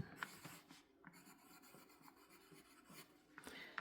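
Pencil writing a name on very thin paper: soft, close scratching and rubbing strokes with brief pauses between letters, quiet and isolated.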